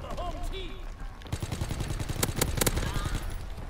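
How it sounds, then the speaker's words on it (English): Gunfire and explosive bursts from incoming enemy artillery in a WW2 video game, with sharp loud cracks clustering midway through over a dense battle din and faint voices. "Incoming enemy artillery."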